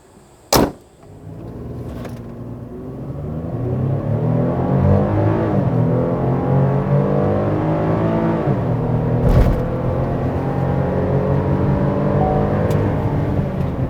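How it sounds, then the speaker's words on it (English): A 2019 Chevrolet Colorado pickup truck's engine revs up and pulls hard, pitch climbing through gear changes, heard from inside the cabin with a brief click at the start. "Now let me show you how fast Chevy Colorado can be."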